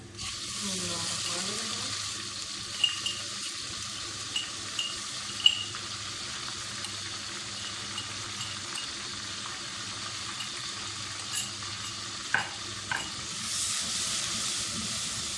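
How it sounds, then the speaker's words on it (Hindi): Ginger garlic paste fries with onions in a pan with a constant sizzling hiss, broken by a few sharp clicks and light clatters of stirring. "अब इसके अंदर हम अदरक लहसुन का पेस्ट डाल लेते हैं।"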